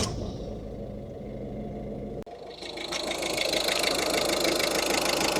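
Ford Transit Connect van engine idling steadily, a mid-pitched continuous rumble that briefly dips, then returns a little louder and denser, close by with no talking.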